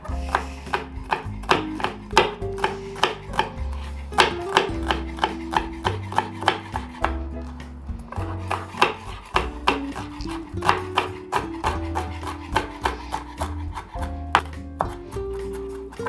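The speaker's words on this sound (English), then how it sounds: "So don't look at me to get any guidance about cutting onions." A knife chops onions on a cutting board for an Italian tomato sauce, making a long run of crisp, regular taps at a quick and steady rhythm, close and clear, with no talk.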